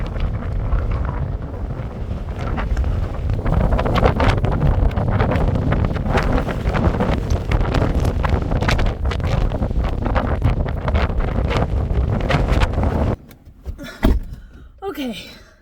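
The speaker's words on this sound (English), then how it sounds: "oh my god, that was so windy" Strong wind buffets the microphone at a desert mountaintop viewpoint in Joshua Tree, a loud continuous roar with gusts, easing briefly near the end.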